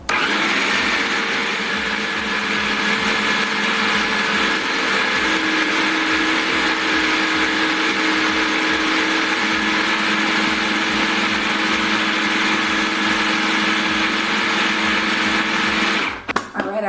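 A blender whirs continuously through homemade peanut butter, a loud, steady motor drone with a sustained high whine, running without pause until it cuts off abruptly at the very end.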